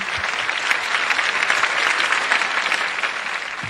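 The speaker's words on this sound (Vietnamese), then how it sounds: "Một tràng vỗ tay thật lớn đi ạ." A crowd at a Vietnamese chèo folk opera performance breaks into a big, loud round of applause, dense and close-miked clapping that stays strong and unbroken throughout.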